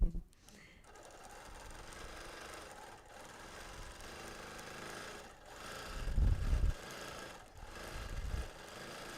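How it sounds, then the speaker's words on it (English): A sewing machine stitches a hibiscus design during a live session before an audience, its steady mechanical chatter running throughout with brief pauses and a louder surge, while a voice talks over it. "So I'm stitching a hibiscus design today."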